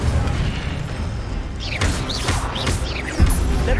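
Bursts of spell effects from Hogwarts Legacy combat, an Incendio fire spell whooshing and thumping among other casts, with several sharp booms and pops in quick succession and no talking.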